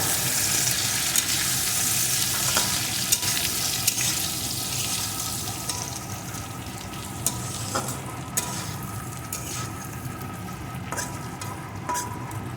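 Steady sizzling of spiced potatoes frying in a pan, with scraping and stirring noises throughout and occasional sharper clicks of a utensil against the pan.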